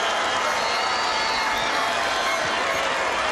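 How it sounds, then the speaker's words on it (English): A stadium crowd at an Under-21 EURO qualifier between Estonia and Germany roars continuously after a goal, with loud, dense cheering and some applause throughout. "that's the biggest cheer of the evening"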